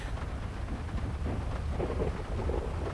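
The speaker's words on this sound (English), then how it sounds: "look at the amount of rain that you can make" Heavy rain set to high intensity in GTA V pours down as a dense, continuous roar with low rumbling, steady throughout.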